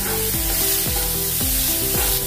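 Coarsely ground onion sizzles steadily in a hot pan, a loud continuous frying hiss broken by repeated scraping strokes of a stirring spoon, with no talking.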